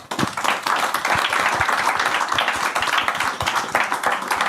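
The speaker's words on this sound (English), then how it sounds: "Please join me in giving our panel a round of applause" A panel audience at a green-future talk session breaks into sustained applause, many hands clapping densely and steadily at full volume for several seconds, with a few sharper individual claps standing out.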